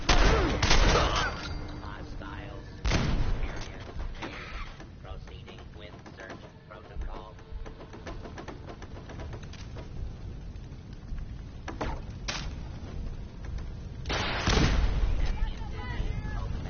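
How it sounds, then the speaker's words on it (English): Fallout 4 combat where a missile launcher fires, heavy booms and blasts burst at intervals amid loud gunfire and rumbling, with people talking between the explosions. "Oh, he's got a missile launcher."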